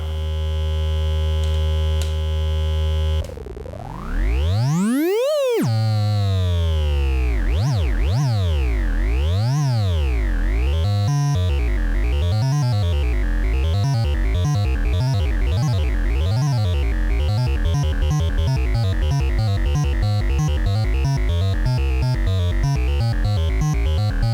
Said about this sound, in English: I'll use sample and hold over an additional TSL's triangle wave and clock it from another TSL